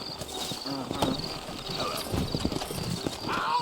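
Horse hooves trot in a steady clip-clop on a trail in the western video game Red Dead Redemption, with faint whinnies and soft game ambience and talk layered over the hoofbeats.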